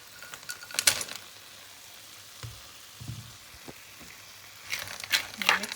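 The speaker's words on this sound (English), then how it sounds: "And then I'm going to add in the garden peas first." Garden peas are stirred into a hot frying pan for peri peri chicken, with quiet sizzling and a few scraping stirs and clinks coming in short bursts, fairly close.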